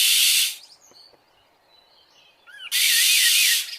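Cartoon crow mimicking a mother sparrow's call: faint chirpy warbling tones between bursts of loud hissing noise, with a wavering trilled note near the end.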